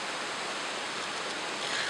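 Pistyll Rhaeadr waterfall heard from a footbridge at its base, an unbroken, even roar of falling water that stays steady and close throughout.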